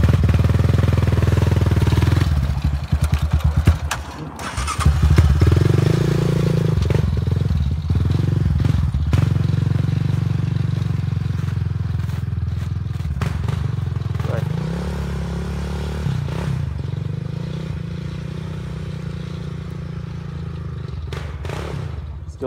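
Loud 2007 Yamaha Raptor 700R ATV with DMC dual exhaust straining up a steep icy trail, engine revving and bogging continuously with clattering and scraping throughout, close to the listener.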